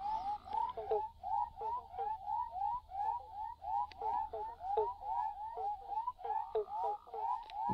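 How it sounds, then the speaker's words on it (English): Banjo, western spotted and motorbike frogs call together at night near a rubbish dump, a dense rhythmic chorus of short repeated croaks and plonks, steady and fairly close, with no talking. "there's probably three or four different species of frogs croaking right now"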